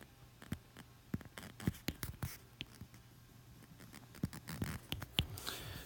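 Pen or pencil writing out an equation's feasible domain by hand, faint scratchy taps and short strokes in an irregular rhythm, close and quiet with no talk.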